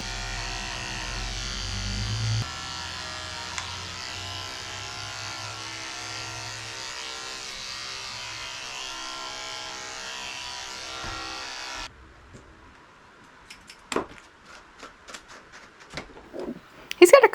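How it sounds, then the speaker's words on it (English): Electric clippers shave a senior Shih Tzu with a steady, close buzzing that runs for about twelve seconds, then cuts off, leaving quiet handling clicks and rustles. "I have to be very careful back here shaving"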